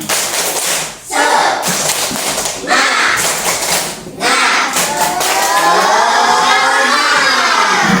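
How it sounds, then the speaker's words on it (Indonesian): A primary school class doing a rhythmic spirit clap, loud crowd claps in patterned bursts with short pauses, ending in a patter of cheering voices. "Tepuk semangat."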